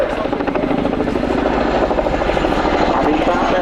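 Royal Air Force Boeing Chinook HC.6 twin-rotor helicopter approaching to land during a display at RIAT 2025, a loud, steady, close rotor thrum with a pulsing beat and engine whine, and a voice speaking over it.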